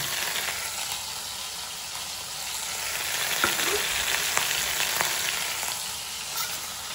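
Prawns frying in ghee for a Mangalore-style ghee roast, a steady close sizzle and crackle in the pan with a few light stirring clicks and no talking.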